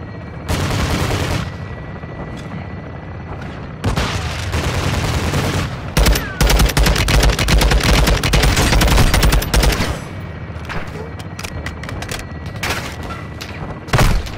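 Gunfire and artillery in the Call of Duty: Modern Warfare 2 campaign, with loud dense bursts of rapid automatic fire, sharp single shots and heavy booms packed closely together and continuing without pause.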